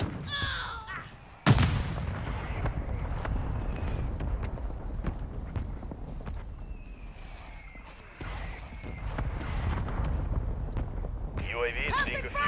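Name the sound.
mortar strike explosions in Modern Warfare video game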